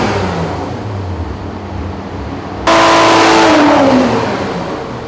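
A Toyota A90 Supra with methanol injection runs hard on a dyno, its engine roaring loud and steady, then surging sharply louder and rising in pitch as it winds up through the pull.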